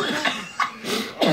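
A person coughs hard several times in quick, harsh bursts.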